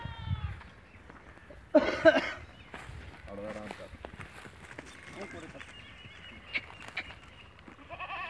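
A goat bleats briefly amid people talking nearby, with some shuffling and scattered knocks in the background.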